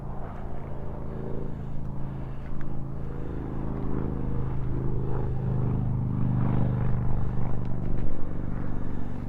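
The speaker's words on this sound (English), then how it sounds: "You can hear all those cars in the background" Distant traffic on US Highway 60 near Arizona ghost town ruins, a continuous low rumble of cars swelling and fading faintly across the desert, with no talk.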